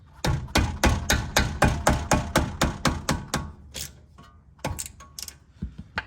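A ratchet wrench loosens the brake caliper bolt on a 2004–2008 Acura TL, a quick run of evenly spaced loud clicks, a pause, then a few scattered metallic clicks close up.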